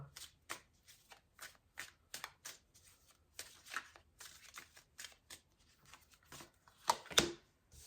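Tarot cards are shuffled by hand in a quiet room, a run of soft riffling swishes and taps coming in uneven bursts, with one louder snap of the deck near the end.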